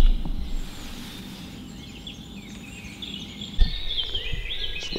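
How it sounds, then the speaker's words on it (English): Birds sing outdoors on a sunny day in the countryside, with light chirps and warbling calls over a low, steady outdoor rumble and a soft knock near the middle. "listen to the birds."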